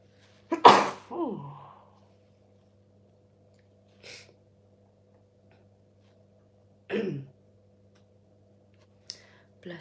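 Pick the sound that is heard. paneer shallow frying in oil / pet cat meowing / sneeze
sneeze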